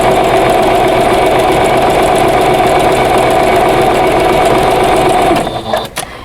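A sewing machine stitches a quilt block at a 2.0 stitch length with a quarter-inch foot, a loud, steady, rapid mechanical whir running close for about five seconds before slowing and stopping with a few clicks.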